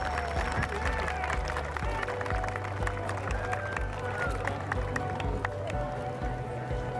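Outdoor crowd at Spruce Meadows in Calgary applauding the Queen's arrival along a laneway; continuous mid-distance clapping over a low rumble of movement, with voices and scattered cheers mixed in.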